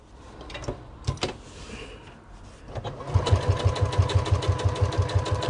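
A sewing machine top stitches a fabric bag. After a few scattered clicks and handling noises, the motor starts a loud, steady, rapid needle rhythm that runs for the last two and a half seconds.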